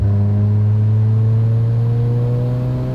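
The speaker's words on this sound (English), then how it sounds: "just a boost pull in 4th gear" A 700 hp Mazda RX-7 rotary engine in a 2200 lb car holds a steady loud drone during a 4th-gear boost pull at 10 psi, its pitch rising slowly and smoothly, close and alone.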